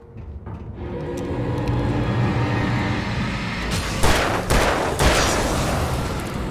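Gunfire in the video game Alan Wake Remastered: a couple of sharp, loud shots cut through a steady, rumbling ambient game backdrop, the strongest two about a second apart.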